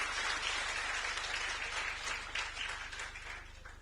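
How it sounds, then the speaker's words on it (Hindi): A crowd applauds steadily for several seconds at a panel discussion with a district collector and police commissioner, dense and fairly close, then the clapping gradually thins and fades. "तो चाहूंगा एक बार जोरदार तालियां ब्रजमोहन जी के सम्मान में।"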